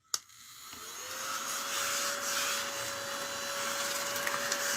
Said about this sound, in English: It's a little craft vacuum.